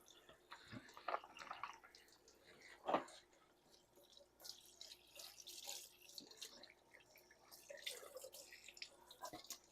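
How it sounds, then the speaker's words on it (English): A rack of pork ribs is rinsed under a cold kitchen tap. The faint, uneven splashing and dripping of running water rises and falls as the meat is turned, with occasional louder splatters. "get these rinsed off in cold water."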